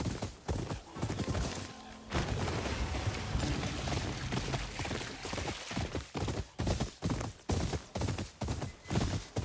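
A horse's hooves clip-clop in the video game Ghost of Yotei, a rhythmic run of close, loud beats that grows more distinct toward the end, with some game noise behind.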